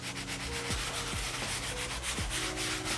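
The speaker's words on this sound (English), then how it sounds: "Give it a scrub down." A bristle brush with foam cleaner scrubs a leather jacket, making close, steady rasping strokes in a quick back-and-forth rhythm, with no talk.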